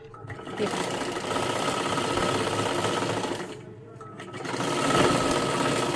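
A sewing machine stitches a salwar top with a loud, continuous close-up whir, briefly easing off and dipping near the middle before running at full speed again to the end.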